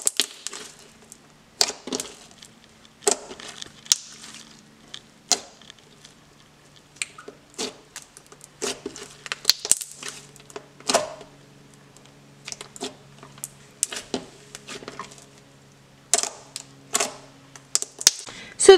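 Candy-corn-scented slime is poked and pressed, giving sharp sticky clicks, crackly flock crunches and small bubble pops in irregular bursts with quiet gaps between them.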